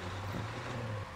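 A BM-21 Grad rocket truck in the war game Men of War Assault Squad 2 runs with a low, steady engine drone at moderate distance, continuous and without talk.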